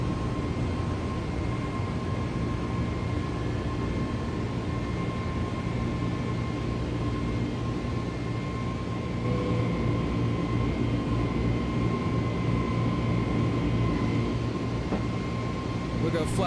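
Simulated Airbus A320 engines climbing after takeoff in Microsoft Flight Simulator give a steady, even drone with a constant mid-pitch hum over a low rumble, unchanging and fairly loud throughout.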